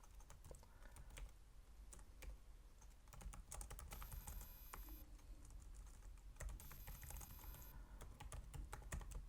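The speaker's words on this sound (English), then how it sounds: "Just follow the commands that I'm typing." Commands are typed on a computer keyboard in a continuous run of quick, close clicking keystrokes, with a few brief pauses and some sharper key hits.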